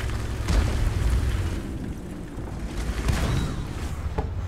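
Tank shell striking a tank in a video game, a deep rumbling boom with heavy low impact bursts and a sustained roar, loud and continuous.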